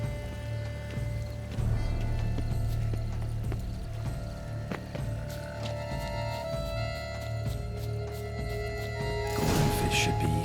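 A horse gallops in The Witcher 3: Wild Hunt Blood and Wine, with rhythmic hoofbeats over a low rumbling game soundscape, a whinny or flourish of sound near the end, and some voice in the mix.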